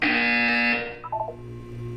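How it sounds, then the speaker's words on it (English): A buzzer sounds in the Portal 2 video game, a loud harsh electronic tone held for under a second, followed by a few short chiming beeps and a low hum. "When you hear the buzzer, look up at the ceiling."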